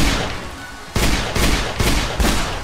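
Rapid gunfire in Minecraft while fighting a monster: a loud burst, then three evenly spaced heavy blasts, close and punchy, without talk.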